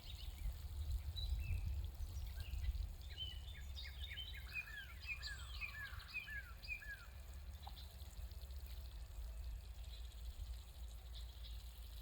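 Water is poured from a container onto the base of a freshly planted pawpaw tree grown with root-pruning containers outdoors, a soft steady pour and trickle under low rumble, with bright birdsong chirping in the background.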